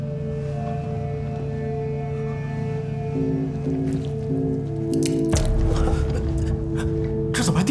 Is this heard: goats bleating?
no